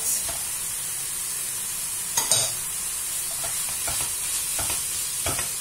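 Finely grated carrots and crumbled minced meat fry in a pan for a vegetable vermicelli dish, a continuous near sizzle broken by several brief scraping stirs, with no talking.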